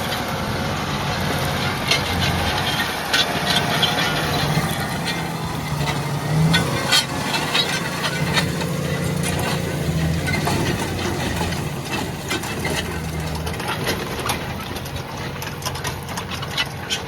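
JCB Fastrac tractor engine labouring under load on a new job, a steady loud diesel drone with rough, busy clatter running throughout without a break.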